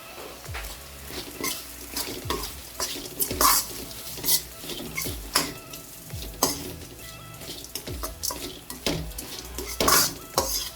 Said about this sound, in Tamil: இந்த ஸ்டேஜில் துருவின தேங்காய் சேர்த்துடலாம்.